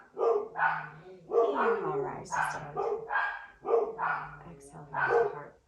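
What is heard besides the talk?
dogs barking in a village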